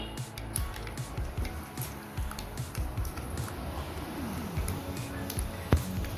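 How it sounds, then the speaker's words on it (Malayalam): Mustard seeds splutter and pop in hot sesame oil in a pan over a gas flame, a scatter of small crackles at low level, alone. "ഇട്ടിട്ടുണ്ട് കടുകിടുകയാണ്"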